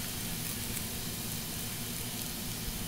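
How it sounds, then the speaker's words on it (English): A collard green stir fry for egg rolls sizzling steadily in a hot pan as it is stirred, a constant dense hiss heard up close without any voices. "So now you're gonna stir the stir fry"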